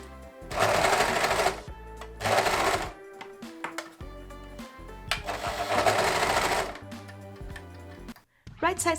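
A sewing machine stitching sweatshirt sleeves onto the bodice of a handmade cosplay sweatshirt, running in several loud, close bursts separated by pauses, with music playing underneath.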